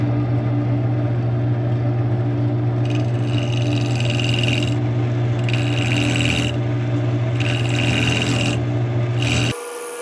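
Maple scrap-wood bottle stopper blank spinning on a wood lathe, with a steady motor hum under repeated scraping bursts of the tool cutting the wood, close and loud, before the machine cuts off.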